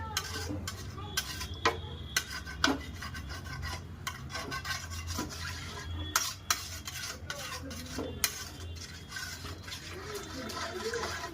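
A utensil stirs tamarind water into a cooking pot, making faint, irregular scraping rubs and small clicks against the metal over a low background hum.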